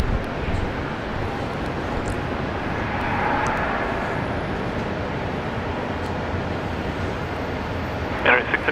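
A Cathay Pacific 747 rolls for takeoff at Brisbane International Airport, giving a steady broadband jet roar heard from a distance with a faint swell partway through.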